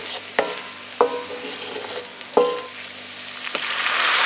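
A soft, steady sizzle of umami paste frying in a pan, punctuated by a few sharp clicks and scrapes of a utensil stirring.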